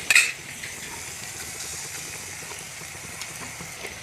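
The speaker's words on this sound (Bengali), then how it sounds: "দইটা মশলার সঙ্গে মিশিয়ে দিলাম" Whisked sour yogurt being stirred into fried spice masala in a pan for potato curry, giving a steady low sizzle with light scraping throughout and a brief louder clatter at the very start; no one speaks.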